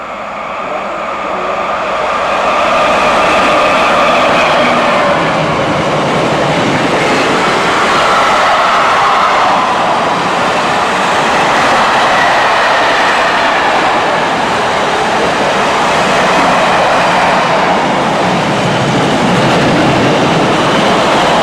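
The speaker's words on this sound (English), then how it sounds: "we're waiting for this train to Atherstone" A train passes through a station on the Trent Valley Line, a loud sustained rumble with rail clatter that swells and holds steady for about twenty seconds, with no talk.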